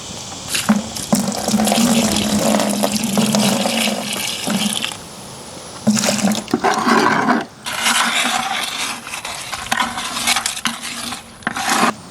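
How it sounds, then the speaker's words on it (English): Water poured and stirred into a bucket of concrete mix for a DIY bowl, a continuous wet sloshing and scraping with short pauses, close up and fairly loud, no talking. "Now I'm gonna add some water, and what I'll do is just stir it and add a little bit of water at a time."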